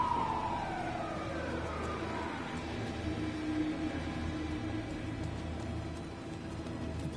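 A police car siren in the video game Alan Wake 2 wails in falling sweeps over a dense, steady rumble of game ambience. It is moderately loud and fairly continuous, with no voices.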